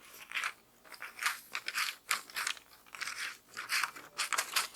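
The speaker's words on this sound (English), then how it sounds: "we're just going to roughly cut around it." Scissors roughly cut around a paper dandelion embroidery pattern, making close, crisp snipping and crunching strokes in quick irregular bursts.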